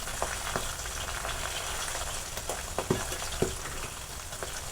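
Herb leaves and stems stirred into hot oil for a homemade hair oil give a dense, steady frying hiss. Occasional soft taps and scrapes of a spoon sound close in the pan, with no talking.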